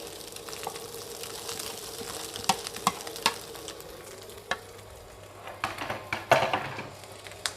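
Rice being stir-fried in a pan with galangal and egg, a constant close sizzle broken by scraping stirring strokes and small clinks.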